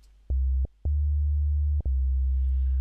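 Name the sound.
FM8 synthesizer sine wave tone through filter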